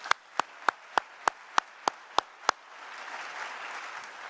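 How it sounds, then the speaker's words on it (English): Audience at a city's State of the City address, first a single pair of hands clapping in a steady, evenly spaced beat, nine sharp claps, then giving way to a soft, diffuse spread of applause. "Can I get a round of applause?"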